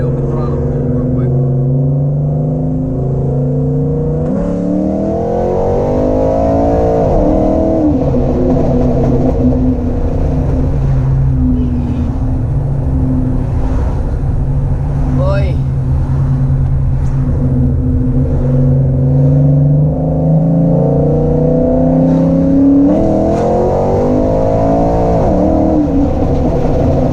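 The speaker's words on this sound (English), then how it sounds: "Let's see if we can't do a little bit of a wide open throttle pull real quick." A Mopar car engine revs hard at wide open throttle, a loud, sustained roar that climbs through the gears with rising pitch sweeps, close by and continuous throughout with no talk.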